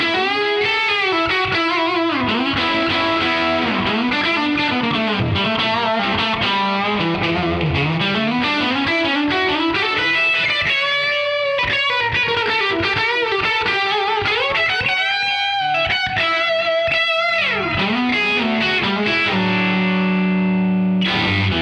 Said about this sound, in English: for a totally different sound, we wanted to give you something gritty and a lot more distorted.